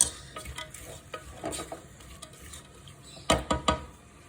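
Onions are stirred in sunflower oil in a pan, with a soft sizzle under repeated scraping strokes and a cluster of sharper utensil knocks near the end, close and fairly quiet.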